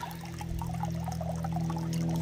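Water trickles and pours slowly from a leaf used as a spout on a hiking trail, a steady, continuous thin stream heard up close for a couple of seconds with no voices.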